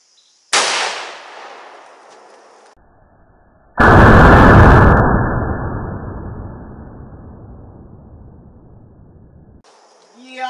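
A CVA Scout rifle chambered in 300 Blackout fires at a target outdoors: a sharp, very loud crack, then a second heavy blast a few seconds later whose boom rolls away and fades slowly.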